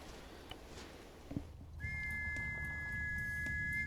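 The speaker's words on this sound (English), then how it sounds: "That's the first whistle call I've heard." In a military video game, a sharp whistle call sounds as a steady, high, sustained tone entering partway through, over low background rumble and a few faint earlier thuds.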